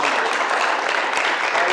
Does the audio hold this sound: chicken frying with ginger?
no